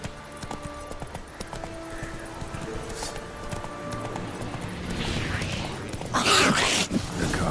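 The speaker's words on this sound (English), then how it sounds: "Whoa there, Roach." Hooves of a horse clip-clopping on a path in the video game Witcher 3, steady mid-distance footfalls under ambient sound, with a brief louder burst toward the end and a voice speaking.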